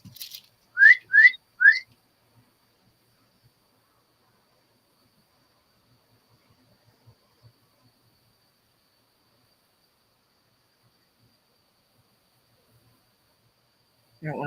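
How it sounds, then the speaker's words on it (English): A person whistles indoors, soft and close: three short rising whistle notes in quick succession near the start, then a long quiet stretch before a voice speaks at the end. "I don't want to whistle too loud because Daddy's asleep."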